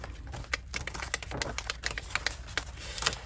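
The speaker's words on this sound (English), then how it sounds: "But first I need to tear apart all of my pages." Paper pages torn apart by hand for a gluebook collage journal, a quick series of crisp, close rips and crackles in an irregular rhythm with no talking.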